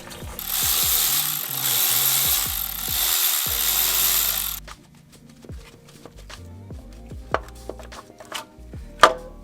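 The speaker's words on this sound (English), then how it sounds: "This is the pulley that is making all the noise." Rapid mechanical ticking and rattling from a noisy engine pulley, first under a steady hiss, then continuing alone with irregular clicks and knocks.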